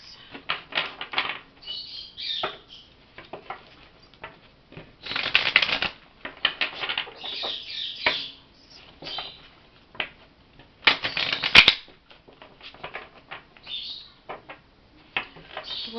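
Oracle love advice cards being shuffled by hand, a run of soft papery riffles and flutters coming in bursts, close and fairly quiet, with no talking.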